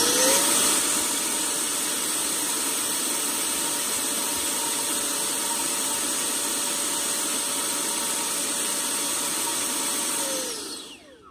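An FMS 90mm 12-blade 6S inrunner electric ducted fan (4068-1850KV) for a Freewing F-18 runs on a bench test, a loud, steady high-pitched whine and rushing roar held for about ten seconds before spooling down at the end.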